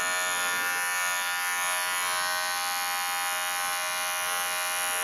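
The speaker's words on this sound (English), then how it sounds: "We're just gonna kind of clipper that off." Electric dog clippers buzz in a steady, loud, unbroken drone while trimming the hair on a dog's paw pads and feet, close up with no talk.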